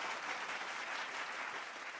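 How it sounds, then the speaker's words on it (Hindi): Audience applause at a virtual prize celebration for a national achievement day, a dense, even wash of clapping from many hands, moderately faint and steady throughout. "तो आइए दिल खोलकर गर्व के साथ जोरदार तालियों से स्वागत करें इनका।"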